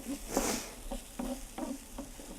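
Coriander and turmeric spices being stirred in a hot pan, a spoon scraping in a steady rhythm of five or six strokes over a soft sizzle, close and moderately loud.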